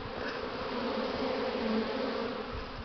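Honeybees buzz steadily close by at their hives, a dense droning hum from many insects working willow blossom, with no voices.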